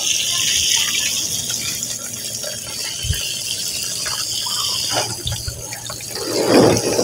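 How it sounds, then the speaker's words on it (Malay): Water poured a little at a time onto bonsai soil growing over a rock, a steady trickling and splashing with a brief gush toward the end, fairly close and continuous. "Siram dengan air sikit-sikit."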